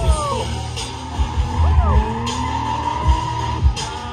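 Drift cars skid at a motorsport show amid smoke, tires squealing in long, wavering screeches over a steady engine roar, with dull thumps and crowd noise throughout.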